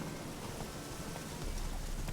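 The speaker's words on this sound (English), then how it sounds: "And it's raining again." Steady broadband rain falls in The Witcher 3, a dense even hiss with soft low rumbling that swells slightly louder toward the end, with no voices.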